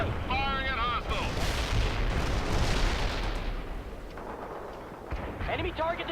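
Heavy artillery and explosions in the strategy game World in Conflict rumble continuously with deep booms and blasts, while radio-style voice lines can be heard briefly at the beginning and end.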